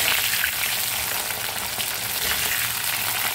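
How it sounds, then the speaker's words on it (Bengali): Potatoes and eggplant fry in hot oil in a wok, giving a steady, close, hissing sizzle that lasts throughout with no talk. "আমি আলু আর বেগুনটা কড়াইতে দিয়ে দিয়েছি"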